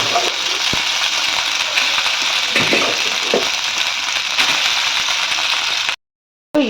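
Rice tossed and sautéed with tempering in a pan over a slow flame, a steady soft sizzle with scraping and rattling stirs throughout, then a brief cut to silence near the end.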